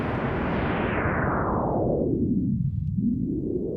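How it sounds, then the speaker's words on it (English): Field recording heavily reverbed into a steady ocean-like white noise wash, constant and dense, its upper range sweeping down then rising again as a filter moves. "So now this has become almost like a white noise type of thing."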